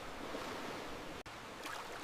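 Roaring ocean waves wash continuously against a sandy shore, a steady broadband surf with a brief dropout midway, carrying on without any voices.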